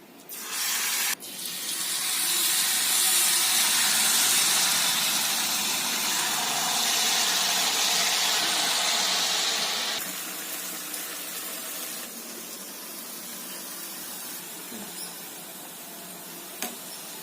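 Jalebi batter sizzles in hot oil over a medium flame, a loud steady hissing crackle that runs on, then eases to a softer fizz, with no talking.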